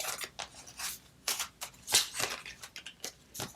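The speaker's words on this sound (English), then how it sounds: "You can cut these shapes out." Scissors snipping card stock into small gift tag shapes, a series of short crisp cuts in quick irregular rhythm, close and moderately loud, with no talking.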